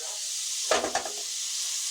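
Peppers frying in a pan give a steady high sizzle, broken by a brief stir with a couple of scraping clatters near the middle, no talk.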